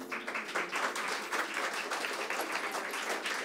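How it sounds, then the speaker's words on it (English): Audience applause follows a Jalatharangam concert at an NRI music festival, a close, steady burst of many hands clapping with no voices over it. "A big round of applause"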